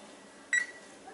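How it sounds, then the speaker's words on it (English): A kitchen timer is set while Greek-style chicken roasts, giving a single short bright electronic beep over quiet room noise. "Okay, so let's set my timer."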